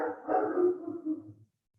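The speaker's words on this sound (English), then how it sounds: "I apologize for my dog barking." A dog barks nearby in a short burst of several loud, closely spaced barks that fade out after about a second and a half.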